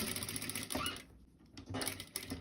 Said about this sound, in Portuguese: Eu vou costurar a volta toda aqui